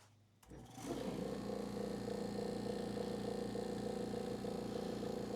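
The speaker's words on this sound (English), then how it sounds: "the vacuum chuck's fired up" A vacuum chuck pump on a wood lathe switches on after a brief quiet moment, then settles into a steady, loud mechanical hum with a fast pulsing rhythm that runs on without a break.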